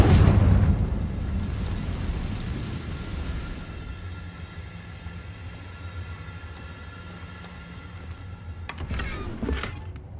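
Confringo fire spell exploding in Hogwarts Legacy, a loud, deep boom at the start that rolls off into a long rumbling tail and low ambient drone, with a couple of sharp crackles near the end.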